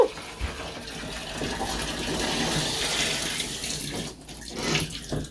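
A washing machine tub fills with water for the rinse cycle: a steady rushing gush of running water, fairly close, that dips briefly near the end.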